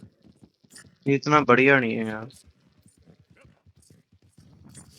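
Horse hooves clip-clop softly and steadily in the video game Red Dead Redemption 2 while someone talks briefly over the rhythmic hoofbeats.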